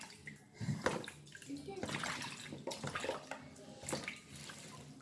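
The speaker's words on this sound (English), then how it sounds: "I'm adding it back in the bowl to wash it for a second time." Strawberries being washed in a bowl of water, faint sloshing and splashing in uneven bursts close by, with soft voices under it.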